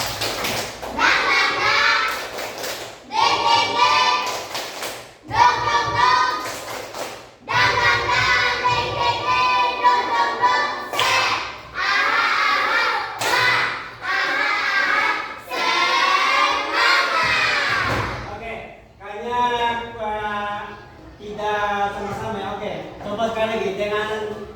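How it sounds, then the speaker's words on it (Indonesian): Schoolchildren in an Indonesian classroom perform the tepuk semangat chant, a rapid rhythmic clapping pattern with chanted voices, loud and close, running in bursts across the whole stretch with brief pauses between rounds. "Tepuk semangat."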